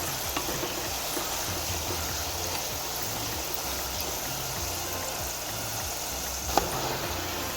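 French fries crackle and bubble in hot oil while a spoon or spatula mixes them, a steady moderate hiss with faint low rumbling underneath and one sharp tick near the end.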